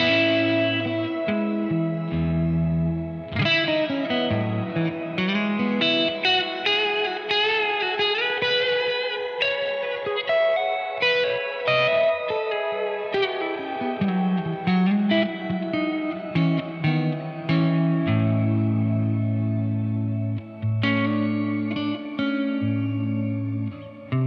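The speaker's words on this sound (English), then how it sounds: "the Hydra does have a trick up its sleeve with that shimmer reverb" Electric guitar played through a Keeley Hydra pedal with shimmer reverb, sustained chords and picked notes blooming into a bright, octave-up wash with long trails, loud and steady, no talking.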